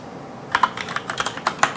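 Quick keyboard typing of a sudo apt command in a Debian Linux terminal, a close run of about a dozen light, crisp keystrokes in an uneven rhythm, with no talk.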